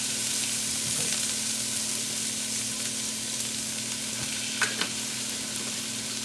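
Brussels sprouts seasoned with garlic salt sizzle steadily in beef fat, butter and avocado oil, a continuous close frying hiss with a couple of brief pops near the end.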